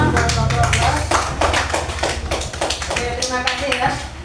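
A peer-teaching class applauds a presenting group, with a short burst of clapping and tapping mixed with voices in the room.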